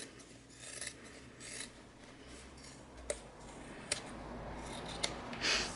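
Scissors snip and rasp through the fabric seam allowances of a sewn bag lining, close and quiet, with steady rubbing strokes broken by a few sharp clicks of the blades and no talking.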